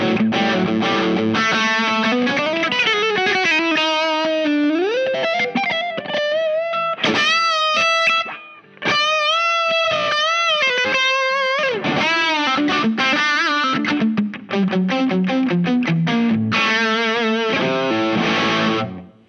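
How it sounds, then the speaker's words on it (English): Electric guitar through a Chase Bliss and Analogman Brothers AM pedal set to distortion, loud and sustained with chords and single-note runs, brief pauses between phrases and a fading final chord. "then you go to distortion, and the volume drops a bit more"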